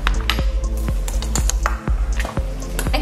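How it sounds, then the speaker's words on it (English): Cornstarch and custard powder are stirred into plant milk for a vegan pastry cream, giving wet squishing and sloshing with light clinks of a utensil against the bowl, close and steady with no talk. "We're going to mix that with our remaining plant milk."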